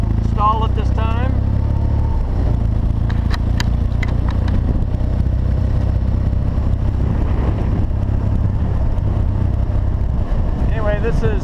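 Motorcycle engine idling and pulling off at the start of a ride toward Paso Robles: a loud, continuous low rumble with steady wind noise and a rider's voice talking briefly over it.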